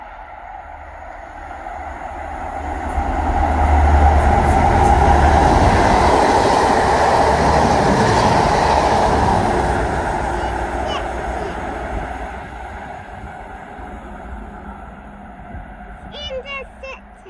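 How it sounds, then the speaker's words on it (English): An Intercity train hauled by class 43 locomotives passes close by, its rumble swelling to a loud roar and then fading as it goes away, with people talking near the end. "They're using class 43s on it, Jess."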